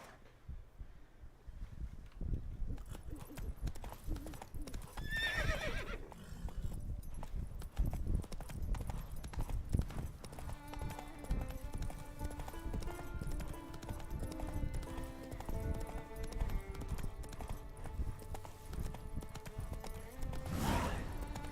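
Roach, Geralt's horse in The Witcher 3, trots with a steady clip-clop of hooves and neighs, against a game soundtrack of sustained musical tones.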